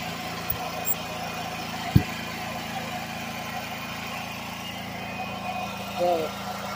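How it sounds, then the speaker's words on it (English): A Harbor Freight engine runs steadily on wood chip gasifier gas, a low continuous hum with a few small knocks and clicks, and voices can be heard over it. "You can hear the engine changing."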